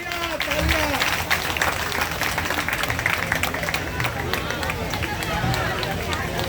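A crowd of mothers and sisters at a closing ceremony of a peace yagna in Jamshedpur claps loudly, dense continuous applause with a voice speaking over it.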